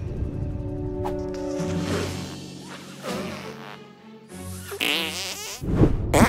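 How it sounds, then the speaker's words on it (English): A long, drawn-out fart in a comedic live stream, a buzzing, sputtering blast that wavers in pitch and ends in a louder burst. "Did I just fart?"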